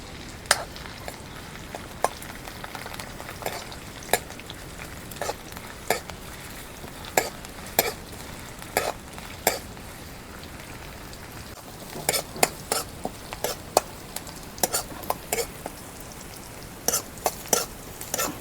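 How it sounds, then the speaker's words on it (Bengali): Chopped onion fries in hot oil in a kadai as a chicken leg dish is started, a soft sizzle punctuated by repeated sharp scrapes and clinks of a spatula stirring, close and clear. "কড়াইতে তেল গরম হইলো, এখন আমি পেঁয়াজ কুচি দিয়ে দিই।"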